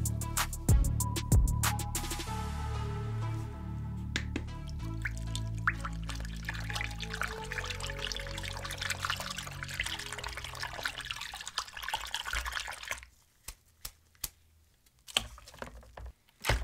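Water runs and splashes steadily from a tap while Wii U gamepad parts are washed, close up, with intermittent clatter and knocks, then the flow stops, leaving scattered handling clicks.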